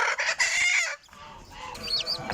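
A mother hen in an old cage with her newly hatched chicks clucks and calls loudly up close, followed by quieter rustling and faint high chick peeps.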